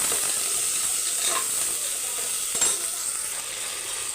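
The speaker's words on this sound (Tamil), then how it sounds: "பாருங்கள், வெங்காயம் நல்லா வதங்கணும்." Onions sautéing in a pan with curry leaves for mutton curry, a constant close sizzle broken by a couple of stirring scrapes.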